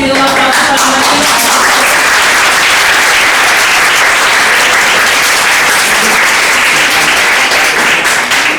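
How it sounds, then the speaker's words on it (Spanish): Sustained, dense applause from a congress audience at a science, technology and society event, honoring a speaker on the Nicoya earthquake; loud, steady clapping fills the whole stretch without letting up. "Así que pido un aplauso para Marino."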